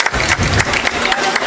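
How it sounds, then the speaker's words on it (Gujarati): Loud, dense applause from a crowd at an Aam Aadmi Party political gathering in Gujarat as a speaker is welcomed on stage, a steady wash of clapping that stays close and continuous throughout. "જોરદાર તાળીઓથી પ્રવીણભાઈને ફરી વખત વધાવીએ."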